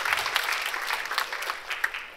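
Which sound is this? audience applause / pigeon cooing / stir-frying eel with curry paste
audience applause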